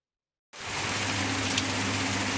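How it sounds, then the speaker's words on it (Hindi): Heavy rain pours steadily outside a house during a storm, a dense continuous hiss that begins abruptly after a brief silence and stays loud throughout. "ये देखो गाइस, कितनी जोरों से बारिश हो रही है।"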